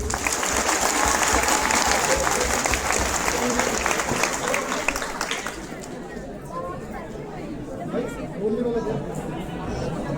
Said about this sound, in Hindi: एक बार विद्यापीठ के सारे टीचर्स के लिए बहुत जोरदार तालियां।